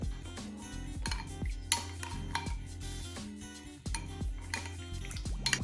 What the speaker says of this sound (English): So all you need to do is stir this mixture, mix it well.